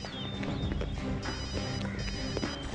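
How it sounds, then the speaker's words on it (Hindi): A telephone rings repeatedly in the distance, its electronic trill buried under a busy, noisy background with no voices. "सर घंटी बज रही है।"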